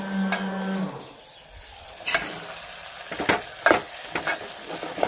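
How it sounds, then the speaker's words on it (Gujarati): Whole onions crackle in hot oil with tomatoes in a pan for a Gujarati onion curry, giving sparse, irregular pops and sizzling bursts after a brief low tonal hum. "થોડીક જો આને કકડવા દઈએ એટલે આપણે ડુંગળી પણ થોડીક કકડી જાય"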